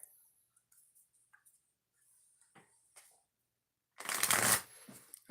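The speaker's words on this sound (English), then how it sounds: "I'm going to shuffle the cards and then we'll ask the question" Deck of oracle cards shuffled in a quiet room, soft isolated taps and handling sounds followed by a short, crisp riffling burst of cards close by.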